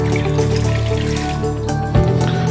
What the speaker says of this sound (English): So I'm going to put the water in first.